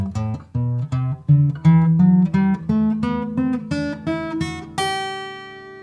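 A natural major scale in G played as a sequence of distinct sustained tones rising step by step, each note clearly separated, ending on a held final note, with no voices present.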